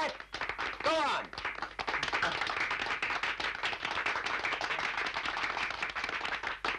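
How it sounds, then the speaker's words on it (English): A crowd claps rapidly and loudly in a kung fu film, the dense, sustained applause following a short whooshing sound at the start. "You could clap louder than that."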